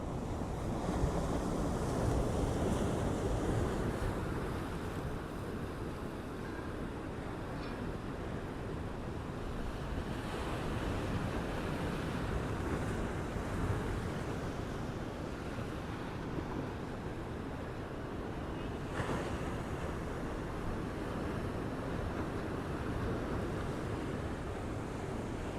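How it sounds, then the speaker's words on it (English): Heavy surf breaking and churning along the Gold Coast, a steady loud wash of ocean water with wind buffeting the microphone throughout, no voices over it. "A lot of water moving out there inside the break."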